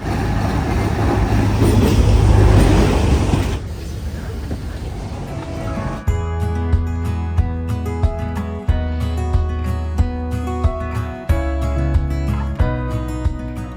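Rumbling interior noise aboard a train in Sri Lanka at first gives way to a steady hum with regular rhythmic clacks, like carriages rolling over rail joints; no speech.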